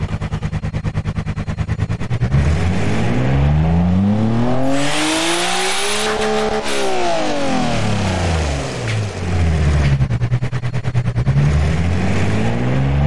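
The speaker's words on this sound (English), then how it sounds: "just rev this up for a little bit, and after doing so, I'll show the engine as is while doing some fake gear shifts" A boxer 6 engine in the video game Automation revs hard for a sustained stretch, its pitch sweeping up to a screaming peak and dropping back down again, loud and close with a raspy, buzzing tone.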